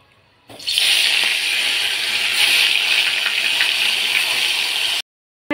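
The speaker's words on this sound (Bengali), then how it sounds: "মাছটা এখন আমি ভেজে নেব।" Koi fish sizzle in hot oil in a wok, a dense, steady hiss that starts abruptly and cuts off after a few seconds, with no talking.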